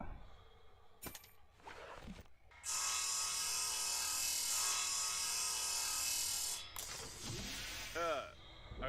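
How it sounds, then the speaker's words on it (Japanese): A rotating drill in the video game Breathedge whirs loudly and steadily for about four seconds after a few scraping clicks, then winds down into wobbling mechanical tones. "回転ドリル。"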